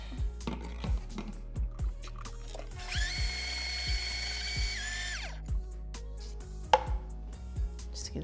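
A blender whirs vegan mayo ingredients, including a little maple syrup, in a short burst of high motor whine lasting a few seconds, surrounded by soft knocks and taps.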